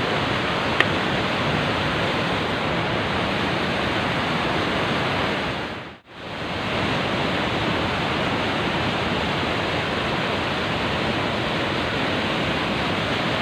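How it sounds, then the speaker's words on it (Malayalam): The Rhine Falls waterfall in Switzerland roars as a loud, unbroken wash of rushing water, steady throughout apart from one brief dip midway. "അവിടെ നിന്ന് വെള്ളം വീഴുന്നുണ്ട്."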